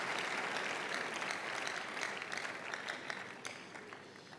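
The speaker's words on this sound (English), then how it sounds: "I can see somebody wants to clap for the Lord." A church congregation claps for the Lord during a service, a dense sustained round of applause that slowly tapers off, with no talking.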